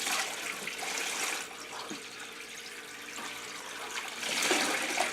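A wet wool fleece is lifted out of its soaking water. Steady splashing and trickling runs throughout, swelling near the start and again at the end, with no speech.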